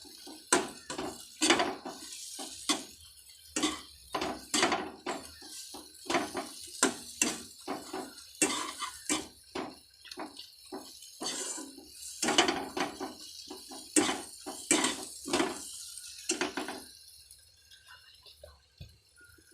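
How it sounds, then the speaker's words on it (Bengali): A metal spoon scrapes and clanks irregularly against a pan while spice masala is stirred for a potol and egg curry, with sharp knocks and scraping bursts in a quick uneven rhythm, close and fairly quiet, no talking. "মশলাটা ভালো করে নাড়াচাড়া করে আমি এর মধ্যে জল দিয়ে দেব।"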